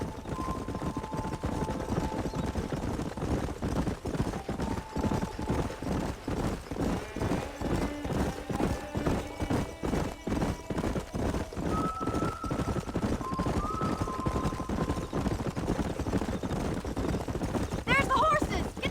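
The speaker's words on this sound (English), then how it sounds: "There's the horses!" Galloping horses in the Red Dead Redemption video game: continuous rapid clip-clop hoofbeats with occasional whinnies, scattered gunfire, and voices talking over the ride.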